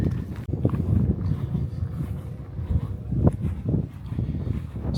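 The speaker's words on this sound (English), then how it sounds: "We've got 15-mile-an-hour winds, 30-mile-an-hour gusts, so hopefully you can hear me" Strong outdoor wind of about 15 mph with 30 mph gusts buffets the microphone, producing an irregular low rumble that surges with each gust.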